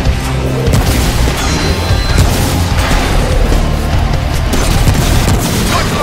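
Bombs explode during a boss fight in the shooter game Remnant: From the Ashes. A loud, continuous wall of booming blasts and rumbling debris fills the whole stretch without a break.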